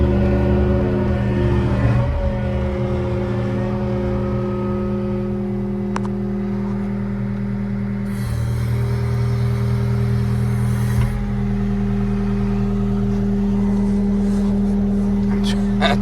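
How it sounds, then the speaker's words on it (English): A Woodmizer LT15 sawmill cutting a log runs with a loud, steady engine and band-saw drone, shifting pitch partway as the blade works through the wood, with brief voices at moments. "So let's start cutting wood."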